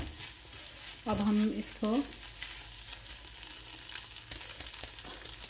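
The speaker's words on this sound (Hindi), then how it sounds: "इसको अच्छे से हम लोग स्क्रैम्बल कर लेते हैं।" Eggs scramble in a frying pan with a steady, close sizzle of frying, while a voice briefly speaks over it partway through.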